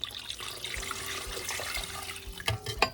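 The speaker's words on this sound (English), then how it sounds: "We are going to put in 2 cups of hot water" Hot water pours steadily into a dough mixture for apple cinnamon rolls, a soft, continuous liquid rush with a few small knocks near the end.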